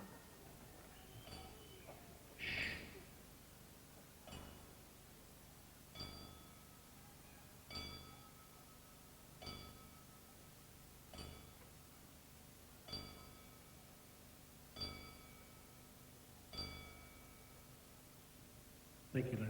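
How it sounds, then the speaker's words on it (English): A bell is tolled ten times in tribute to a trainer before a main event at a fighting show, each ring a clear, evenly spaced ding about two seconds apart, ringing out over a quiet crowd. "Angela Buttigieg, our timekeeper, will toll the bell 10 times as we pay tribute"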